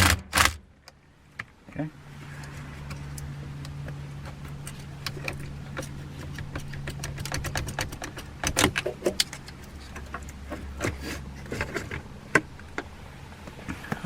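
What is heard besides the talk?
wrench loosening a 10mm battery bolt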